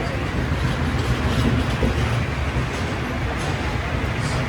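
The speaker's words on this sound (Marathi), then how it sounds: "मी ट्रेन पकडली आहे" A crowded passenger train out of Panvel rolls along with a steady, loud rumble and a faint clickety-clack of wheels on rails, continuous throughout with a low murmur of voices.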